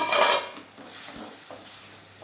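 A spoon scrapes and clinks against a pan as stuffed brinjal curry is stirred, with a louder scrape at first and then softer, uneven strokes.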